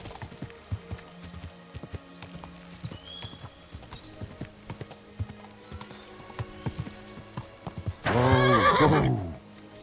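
A horse's hooves clip-clop steadily at a walk in the video game Kingdom Come: Deliverance II, then a loud, shrill neigh rings out near the end, close and clear.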